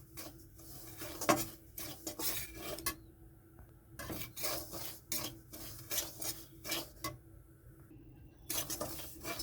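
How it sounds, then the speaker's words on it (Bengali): Semolina dry-roasts in a hot, oil-free kadai, heard as faint scraping and rubbing strokes of a spoon against the metal pan in an irregular rhythm, with light clinks. "এখানে আমি সুজিটা দিয়ে দিচ্ছি ভাজার জন্য"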